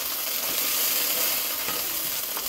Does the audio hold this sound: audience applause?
no